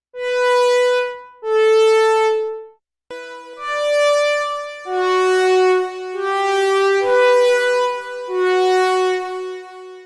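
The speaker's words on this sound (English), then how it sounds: "that's adding a little bit of delay, adding a little bit of space to the sound" A bright synth plays a slow sequence of sustained tones, each note ringing out with echoing repeats that add space and blend into the next.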